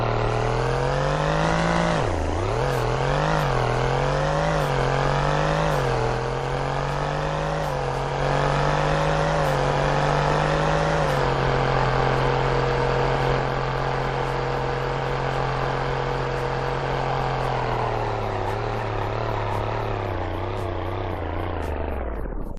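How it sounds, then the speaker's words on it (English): A car in Roblox TruckPlanet accelerates from 0 to 100 and then brakes: a loud engine drone whose pitch climbs through several gear shifts, then holds steady and fades as the car slows to a stop. "Here's a 0 to 100 in braking test."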